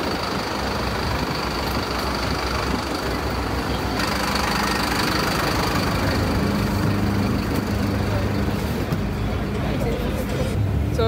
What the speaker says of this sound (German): Und wir steigen jetzt in den Bus hier und fahren jetzt ins Zentrum